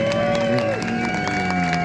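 A crowd claps and cheers at a motorcycle stunt show, sustained applause rolling on beneath a loud voice talking and a steady tonal drone.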